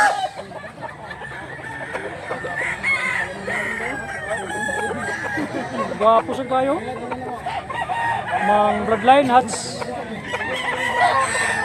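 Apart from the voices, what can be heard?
bullstag roosters crowing at a cockfight market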